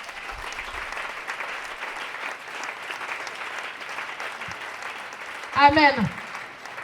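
A church congregation claps steadily and loudly throughout, a sustained wash of applause, with a voice calling out briefly near the end.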